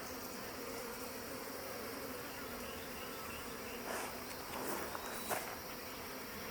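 Honey bees buzz in an opened hive box full of honey, pollen and swarm cells, a steady, dense hum from many insects close by, with a few brief louder passes near the end.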